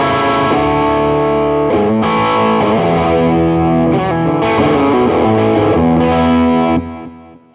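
Electric guitar through an amp with mild overdrive, sustained chords strummed loudly and steadily, ringing out at the end.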